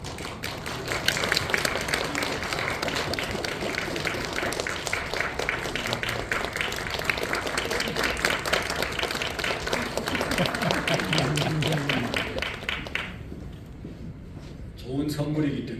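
A church congregation applauds during a Sunday worship service, sustained dense clapping filling the hall for about thirteen seconds before fading, with a few voices and a spoken word after it dies down.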